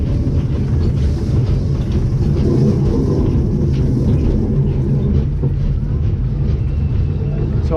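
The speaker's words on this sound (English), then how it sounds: "This one's got a kicker wheel lift hill." At Aktur Park in Antalya, a roller coaster train climbs a kicker wheel lift hill, producing a loud, continuous mechanical rumble and churning roar that stays steady throughout.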